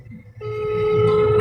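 A phone rings with a steady, loud electronic tone that starts abruptly and holds unbroken until near the end, over faint background noise.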